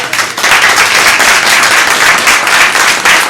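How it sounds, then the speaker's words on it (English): An audience claps for a panel at the close of a discussion on media portrayals, loud, dense applause from many hands that swells and holds steady for several seconds, close and continuous. "join me in thanking the Let's give a panel. round of applause"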